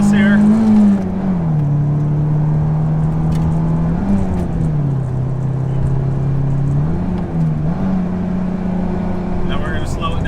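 A loud car engine pulls hard with a continuous droning roar. Its pitch climbs and dips through gear changes.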